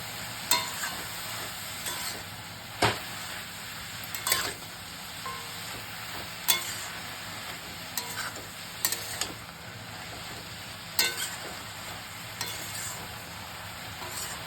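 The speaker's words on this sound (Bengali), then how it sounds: "বেশিক্ষণ ভাজবো না, 2 থেকে 3 মিনিট" Mixed colourful vegetables and mushrooms frying briefly in a pan, a soft steady sizzle sitting low in the background, broken by a few sharp clicks and knocks from stirring at irregular intervals.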